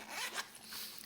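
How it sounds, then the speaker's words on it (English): A zipper pouch supplied with a Bestech Pterodactyl folding knife is zipped in one quick pull, with a short rasping burst near the start. It is close and fairly quiet, and no one speaks over it. "it does come with this nice zipper pouch"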